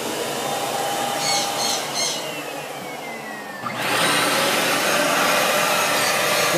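A Miele Twist vacuum cleaner runs during a noise test, a steady whooshing motor drone that rises abruptly louder partway through and then holds at a constant level.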